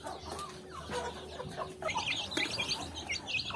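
Chickens clucking close by at late-afternoon feeding time, a busy flock of overlapping clucks and short calls that grows denser in the second half.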